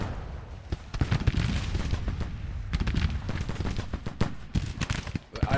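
Gunfire crackles through a Civil War battle in a strategy game, with scattered rifle shots and volleys popping in irregular bursts at moderate volume, soft low rumbles underneath.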